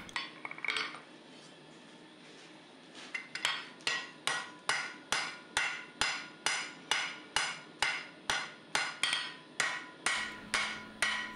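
Hammer forging the point of a wrought iron and steel seax: after a few scattered knocks, a steady run of about fifteen ringing metallic blows falls at an even rhythm, close and sharp.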